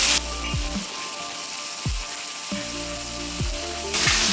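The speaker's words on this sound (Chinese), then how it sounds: "我们用这个油炸透一点" Eel frying in hot oil in a wok: a constant near sizzling hiss that flares briefly at the start and end, set against background music, with no voices.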